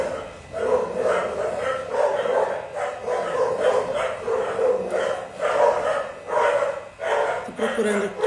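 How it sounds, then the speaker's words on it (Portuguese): Dog barks in repeated short bursts through a steady mid-range murmur, fairly close, with people talking over and around the barking at home during a prayer novena broadcast. "Cachorro!"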